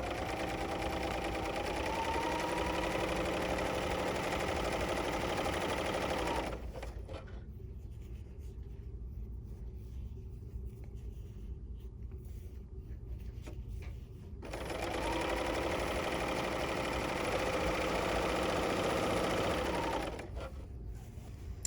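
A Bernina L 860 overlocker stitches a two-thread rolled hem, running in a steady, even whir that stops for several seconds in the middle and then starts again, close and alone with no talking.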